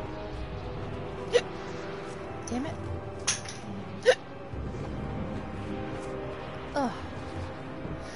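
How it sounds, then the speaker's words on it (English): A man's short, sharp hiccups jolt out a few seconds apart over quiet Tomb Raider game sounds, with a brief muttered remark. "Pardon me, guys, I got some hiccups."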